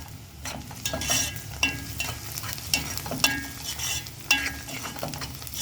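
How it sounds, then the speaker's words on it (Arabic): Chopped onion sizzles in a hot pan while a spoon stirs it, a steady frying hiss punctuated by regular scraping clatters of the utensil against the pan, close and moderately loud, no speech. "لما البصلايه تحمر."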